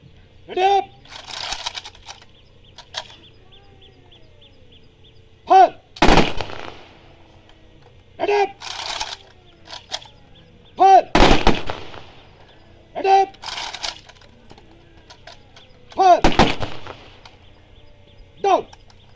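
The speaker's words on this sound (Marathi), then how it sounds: "मेकानाइज इन्फंट्रीनं बंदुकीतून फैरी झाडून सलामी दिली" Mechanized infantry and police fire rifle volleys as a gun salute at a soldier's state funeral in Shrigonda, India. Several sharp, crackling volleys burst out, spaced several seconds apart, with a voice narrating in between.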